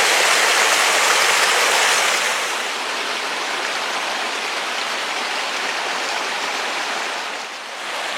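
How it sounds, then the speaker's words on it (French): A forest stream pours over rocks and boulders into a pool, a loud, steady, close rush of water with no voices. "Et bien sûr, la magie du ruisseau."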